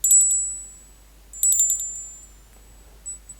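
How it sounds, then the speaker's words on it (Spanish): A small bell rung to call the spirits sounds in two bright, high clusters of quick strikes, each leaving a thin ringing tone that fades, with a faint final ping. No voices are heard. "Una campana"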